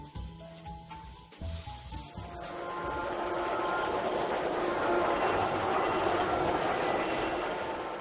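Model trains run at the New York Botanical Garden Holiday Train Show inside a conservatory, first faint clicks under crowd murmur, then a rising continuous rumble and rattle of the passing train that holds steady and fairly loud.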